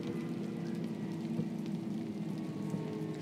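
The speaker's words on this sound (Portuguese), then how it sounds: "Tá chovendo pra caramba aqui, velho." Steady rain pours down in Bus Simulator Ultimate, with a constant even hiss and patter of drops lasting the whole time and no voices.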